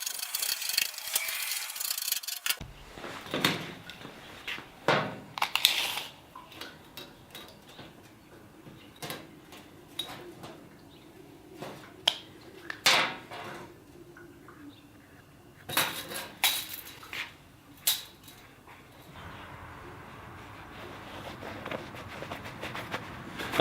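Metal nuts threaded onto a bolt by hand, giving scattered small clinks and rattles of metal on metal, close and fairly quiet, with no talking.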